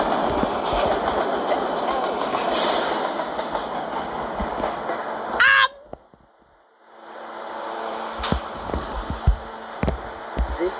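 Rumbling video-game subway train noise with rhythmic clatter and a brief sharp screech, then a near-silent gap before the rolling rail sounds resume.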